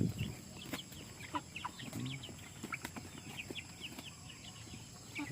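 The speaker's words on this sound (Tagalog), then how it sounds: "Uy, isa ka manok." Chickens cluck in a backyard flock, with repeated short calls scattered across the clip, some louder and nearer, others faint, over a steady rustling farmyard background.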